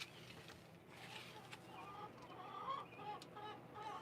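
Chickens, adult hens and younger birds, cluck and chatter in a coop, a soft scattered mix of calls and rustling at low volume, fairly distant.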